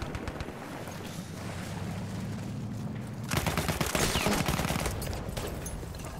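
Rapid gunfire from the Battlefield 1 video game rattles in a dense, continuous burst over a noisy battlefield backdrop, growing louder partway through.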